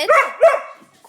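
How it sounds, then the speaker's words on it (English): A dog gives two loud, close barks in quick succession, the second trailing off into a short whine. "Stop barking at me."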